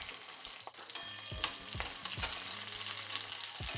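Green chillies frying in hot oil with mustard seeds and cumin give a steady sizzle, close and fairly loud, broken by a string of sharp clatters from a spoon stirring against the pan, with no voices.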